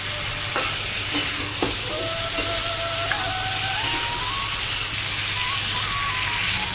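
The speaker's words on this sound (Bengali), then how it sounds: "সব দিয়ে দেবো ভেজে রাখা সবজিগুলো দিয়ে আমি কষিয়ে নেবো ভালো করে" Fried aubergine and potato pieces sautéed and stirred in a spiced masala in a pan, giving a steady sizzle with occasional sharp clinks of a spoon against the pan, close and continuous, with no talking.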